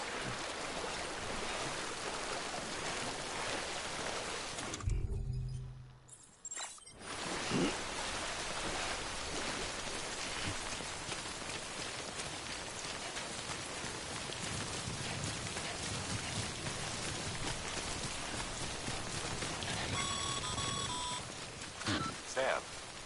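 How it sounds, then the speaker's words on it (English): Steady, dense video game rainfall from Death Stranding hisses throughout, briefly cutting out for a moment, with a few faint electronic beeps near the end. "Don't stay out in the rain any longer than you have to."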